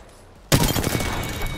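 Sudden burst of automatic gunfire in Apex Legends breaks a quiet moment, a rapid run of sharp shots with a dense, crackling tail that continues loudly to the end.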